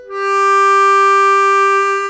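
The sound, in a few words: clean single note on blues harmonica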